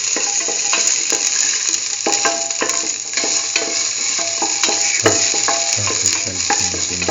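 Shallots and salt sauté in a hot pan for a mustard broccoli potato rice dish, giving a loud, steady sizzle broken by frequent clicks and scrapes of a utensil stirring against the pan.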